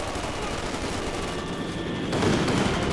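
Panzer Grenadiers firing in the World War II strategy game Company of Heroes 2, steady rattling rifle and machine-gun fire amid battle noise, growing louder near the end.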